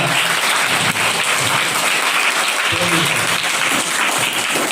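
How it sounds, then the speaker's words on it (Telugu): Students at a school foundation event clap for guests being called onto the stage, a dense, loud, continuous burst of applause from a large crowd lasting throughout. "విద్యార్థులంతా కూడా వారికి చప్పట్లతో స్వాగతించాలి"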